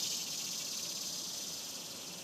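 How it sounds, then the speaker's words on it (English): Steady high-pitched buzzing drone of cicadas in a Long Island garden in August, continuous and fairly even, with no voices. "Also the cicadas."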